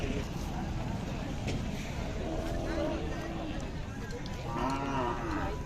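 Khillar cattle low in a few drawn-out, rising and falling moos at a livestock market in Sangola, over steady background noise, with faint voices mixed in.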